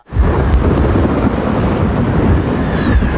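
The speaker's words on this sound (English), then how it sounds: "A storm." A storm roars with continuous loud wind and low rumbling thunder, a dense, steady wash of noise with no talking over it.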